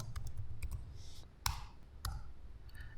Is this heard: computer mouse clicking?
yes